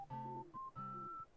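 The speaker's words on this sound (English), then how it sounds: "I happen to hit a whistling solo." K.K. Slider's whistling solo in the Animal Crossing: New Horizons video game: two sustained whistled notes ride over a soft, synthetic chordal backing in brief, even phrases, clean and close with no voices.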